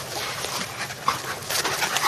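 A dog pants at a dog park in quick, breathy close-up puffs, with a brief whimper partway through and no voices.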